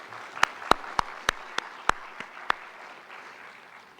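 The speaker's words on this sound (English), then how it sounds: "please give them a nice round of applause" An audience at an evening lecture claps, beginning as a few sharp, spaced hand claps and thinning out into scattered claps over a soft murmur of the room.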